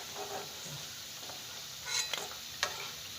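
Fandi vadya, sliced fritters, frying in hot oil, a steady soft sizzle with a few brief louder crackles and stirring scrapes near the end.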